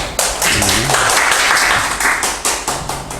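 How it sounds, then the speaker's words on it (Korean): An audience applauds at a speech event, several seconds of irregular clapping with sharp individual claps standing out, close and fairly loud, with a voice briefly audible underneath. "박수 보내주실 거죠?"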